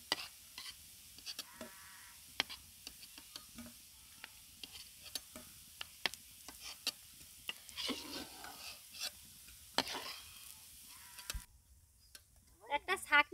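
Sweet narus deep-frying in hot oil, a faint steady sizzle broken by small clicks and scrapes of a utensil, with a voice speaking now and then over it.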